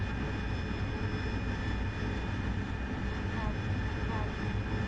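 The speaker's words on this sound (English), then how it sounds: "Someone flying the Harrier" Harrier jet engine in a flight simulator game, a steady loud broadband jet roar with a constant whine running throughout, no breaks.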